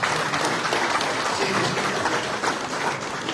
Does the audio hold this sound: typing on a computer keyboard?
no